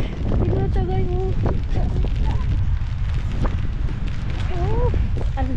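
Strong wind on a Madrid street, a loud, constant rumbling gust buffeting the microphone while people talk over it.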